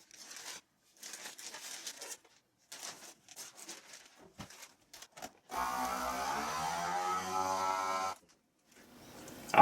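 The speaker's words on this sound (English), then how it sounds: "Obviously you don't have to vacuum seal your meat" A vacuum sealer running on a package of homemade deer stick meat: a steady mechanical hum with rising tonal pump whine lasting about three seconds, following a stretch of soft handling noises and rustling.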